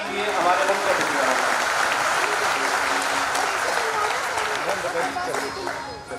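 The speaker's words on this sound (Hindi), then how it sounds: "जोरदार तालियों से स्वागत कीजिए हमारे मुख्य अतिथि।" An audience at a police trainee cultural programme and feast in Kasganj bursts into loud, sustained applause to welcome the chief guest onstage, steady clapping that tapers slightly toward the end.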